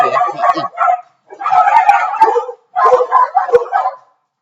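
Dogs in a home kitchen bark, yip and howl in three loud bursts separated by short pauses, close to the microphone.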